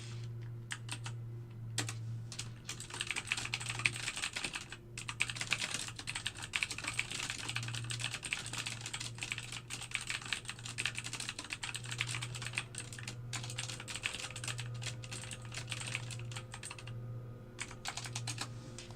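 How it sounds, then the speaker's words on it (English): Fast, continuous typing on a computer keyboard during live algorithmic trading at a desk, a steady patter of close keystrokes with brief pauses over a low electrical hum. "Okay, I'm done typing."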